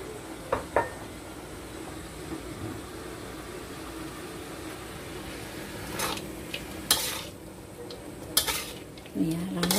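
Shrimp being stirred in a cooking pan for a Middle Eastern-style macaroni dish, with a steady sizzling bed broken by occasional scraping and clinks of a utensil against the pan.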